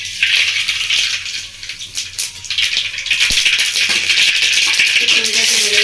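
Whole spices sputtering in hot oil, cardamom, a halved dried red chilli, black mustard seeds and a bay leaf, tempering in a Bengali village kitchen for pineapple chutney. Dense crackling and popping builds steadily and stays loud, with scattered sharp pops.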